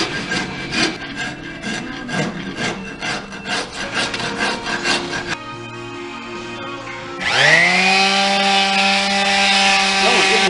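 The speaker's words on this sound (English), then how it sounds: "I've been using sandpaper and a file and all type of stuff trying to get that out of there." A deer skull for a European mount being sanded and filed by hand, with steady repeated rasping strokes for about five seconds, a brief pause, then a louder sustained grinding tone that runs to the end.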